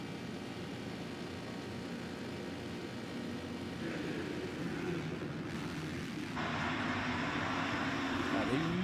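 Motocross bikes at the start of a British MX Nationals round at FatCat Moto Parc drone from a distance, the engine noise swelling as the revs build, with a brighter surge near the end.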